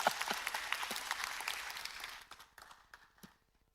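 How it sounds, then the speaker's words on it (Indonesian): Audience applause at a workplace motivational talk, a dense burst of clapping that fills the first two seconds and then thins to scattered claps trailing off. "beri tepuk tangan tuh"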